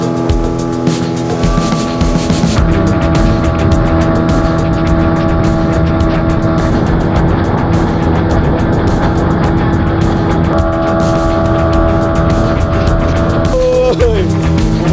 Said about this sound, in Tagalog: nandito na po yung boat na sasakyan ulit natin pabalik ng island